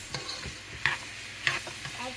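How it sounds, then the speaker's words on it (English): Peppers and onions fry in a pan for deer chili, a soft steady sizzle broken by a few clicks and scrapes of stirring, fairly quiet, with no talking. "I'm going to go ahead and fry up this peppers and onions for a little bit"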